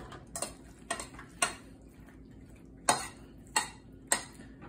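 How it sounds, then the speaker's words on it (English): Pasta and pesto being mixed in a pot with a utensil give off a handful of sharp, scattered clinks and scrapes against the pot over a quiet background, with no talking. "now you're just gonna mix this all around"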